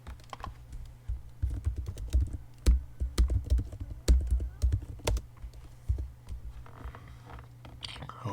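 Keys clatter on a computer keyboard close by, in quick irregular bursts of clicks that thin out toward the end, with faint low background noise.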